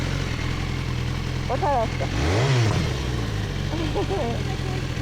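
An RKS motorcycle engine idles with a throttle blip rising and falling in the middle, close and loud, while people talk over it outdoors.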